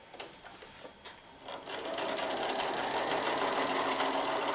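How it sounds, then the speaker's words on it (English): A sewing machine stitches quilt fabric along a marked line, starting with a few short bursts and then running in a fast, steady whirring chatter, close and alone. "So I'm going to take this over to my sewing machine, and I'm going to stitch on this marked line as well."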